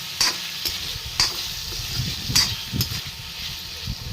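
Vegetables with tomatoes are stirred in hot oil in a pan: a steady close sizzle broken by regular scraping taps of the spoon roughly every second, with no voices.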